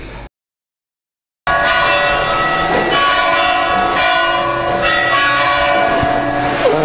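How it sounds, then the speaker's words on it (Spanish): Bells ring continuously after a brief silence, a dense metallic peal that stays loud and steady, with no voices over it. "¿Qué son estas de sonar las campanas?"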